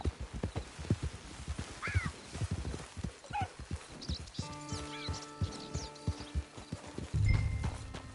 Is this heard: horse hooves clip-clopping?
yes